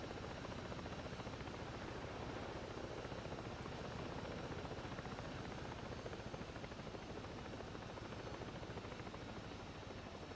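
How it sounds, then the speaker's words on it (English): A helicopter in the video game Ghost Recon Breakpoint gives a steady, dense rotor and engine drone that fills the whole stretch at an even level, with no voices. "the helicopters are so fragile in this game"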